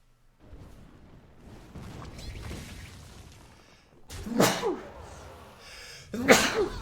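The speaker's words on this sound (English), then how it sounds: "Lots of sneezing." A person sneezes twice, loud and close: one burst midway and a second near the end, over a low background of room noise.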